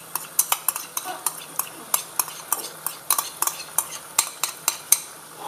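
A utensil stirs sauce into mee kway teow in a pan, giving repeated sharp scrapes and clinks in a steady rhythm, close and fairly loud, with no talk.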